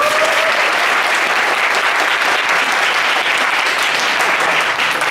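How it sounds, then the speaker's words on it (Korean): Steady, dense applause from a concert audience after an encore song fills the whole stretch at an even, loud level, with no break and no talking. "박수 한번 주십시오."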